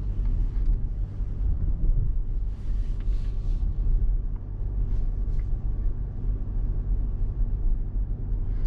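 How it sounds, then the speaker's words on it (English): A 2024 Mercedes GLC AMG hybrid SUV's engine drones steadily as it climbs a hill in battery-hold mode, a continuous low rumble mixed with road noise heard from inside the cabin, with no talking. "it needs to use the engine to go uphill"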